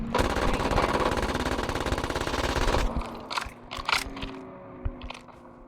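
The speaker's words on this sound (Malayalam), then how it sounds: "മുകളിൽ ഫയറിംഗ് ഉണ്ടോ?" A long, loud burst of rapid automatic gunfire in the Call of Duty Mobile video game, followed by a few sporadic, sharper shots.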